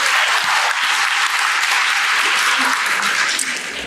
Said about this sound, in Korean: 마무리 이야기 잘해달라고 박수 한번 크게 부탁드리겠습니다